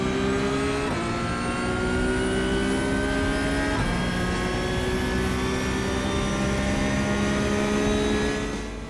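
A Porsche Cup race car in the iRacing simulator runs at full throttle at Spa, climbing Eau Rouge, its engine screaming loud and close with two quick upshifts, then rising steadily in pitch.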